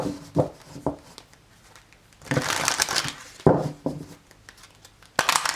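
Several crisp riffling bursts of cards being shuffled close by, irregular and papery, separated by short quieter pauses.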